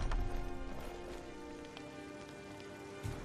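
Steady rain falling in the video game Skyrim, a dense, even hiss of drops on surfaces that holds across the whole stretch, with a faint low thump near the end and no talking.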